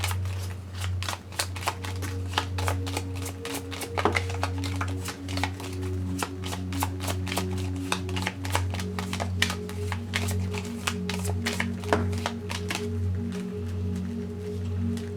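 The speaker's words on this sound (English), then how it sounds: "I'm going to take these and continue shuffling with them and see what we get." Tarot cards being shuffled by hand, a steady run of quick papery riffles and flicks over a constant low hum, with no talking.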